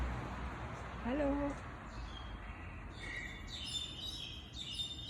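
Small birds chirp in short high bursts outdoors, a few scattered calls standing out over steady background noise, with a voice briefly calling out nearby.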